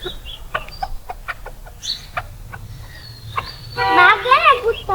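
Rooster crowing with scattered clucks and bird calls at a Bengali village home, the crow rising loud and near near the end over a low background hum.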